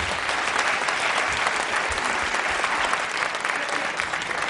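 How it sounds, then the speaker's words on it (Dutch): Sustained, dense applause from an audience at a Miss Fashion gala awards show, cheering the women contestants after their dance segment; loud, steady clapping fills the whole stretch with faint crowd murmur beneath. "Dus sowieso een applaus voor alle dames voor het dansgedeelte."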